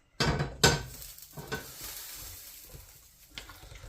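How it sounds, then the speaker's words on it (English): A spoon stirring a pork and apple cider casserole in a pan, with two loud scraping knocks at the start, then softer sizzling and occasional scrapes, close and without speech. "I'm going to give this a stir"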